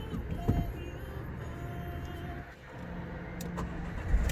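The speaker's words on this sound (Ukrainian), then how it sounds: "Автомобіль заводиться з півоборота, працює рівно стабільно справно" A Renault Kangoo engine turns over and settles into a steady, even idle, heard up close and alone, with a few faint clicks over the low running hum.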